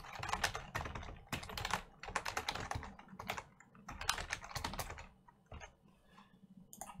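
Fast typing on a computer keyboard while entering a command in Rust settings, a dense close run of clicking keystrokes in bursts with short pauses.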